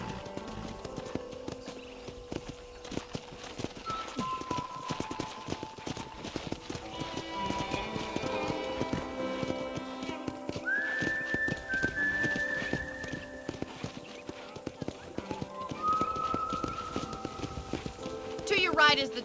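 Horse hooves clip-clopping in Red Dead Redemption, a steady rhythmic trot under game dialogue and background music, with brief whinnies.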